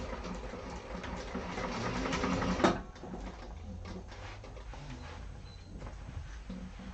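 A sewing machine runs steadily, stitching a reinforcing line along the seam allowance of a satchel lining; the close, continuous mechanical whir is louder at the start and then settles into a softer, even hum.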